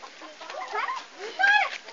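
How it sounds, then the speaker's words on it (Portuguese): Turkey hen on a Brazilian farm gives a few short, harsh clucking calls at close range, mixed with people talking nearby. "Pega a perua pra ela, Daniel."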